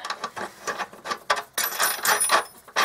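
Metal hardware clinking and ratcheting as a washer, lock washer and nut are fitted onto a bolt during running board installation on a Ram 3500 truck; a close series of short clicks and rattles in irregular bursts.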